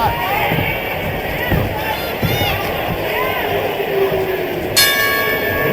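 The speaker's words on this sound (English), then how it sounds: "The crowd doesn't like it" A large boxing-arena crowd murmurs and stirs during a heavyweight fight, a steady loud rumble of many voices beneath a commentator's talk, with a sharp ringing tone near the end.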